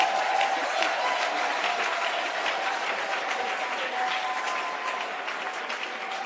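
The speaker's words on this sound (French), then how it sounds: "Applaudissez pour le Seigneur Jésus." A congregation at a French-language church service claps steadily, a dense and even wash of applause that holds throughout at moderate volume.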